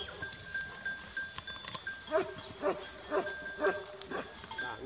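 Anglo-Nubian goats in a flock at a sheepfold bleat in a series of loud, wavering calls roughly every half second, with background noise and a faint voice in the distance.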